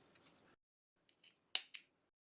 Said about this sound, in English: Chain 1 and cut this yarn.